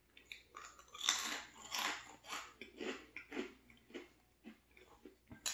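Veggie chips crunched close up during a mukbang turkey sandwich meal, a steady series of crisp, snappy bites and chewing crackles in irregular rhythm, loud and intimate with no talking.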